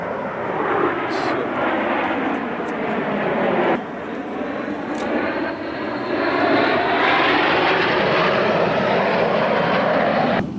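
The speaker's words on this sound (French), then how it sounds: "Gilles, il va décoller." A fixed-wing airplane takes off at the Beauvechain air show in Belgium, its loud engine roar sustained and rising throughout while spectators talk nearby.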